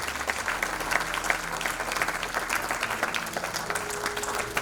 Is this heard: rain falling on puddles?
no